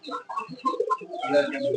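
Birds coo and murmur softly at close range at a pigeon market in Sarulia, Demra, Dhaka, a short burst of pigeon-like calls mixed with faint clucking.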